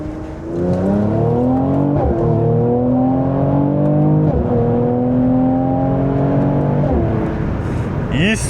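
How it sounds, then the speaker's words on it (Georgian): Mercedes-AMG C43 engine in Sport Plus manual mode accelerating hard through the gears, heard from inside the cabin: a loud, rising engine note climbing steadily with brief dips at each upshift, over several seconds. "მაგრამ შემოდის რაც მთავარი ამ მანქანის ძრავიდან წამოსული ხმა."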